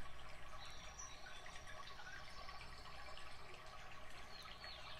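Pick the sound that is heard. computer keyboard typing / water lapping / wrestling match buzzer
water lapping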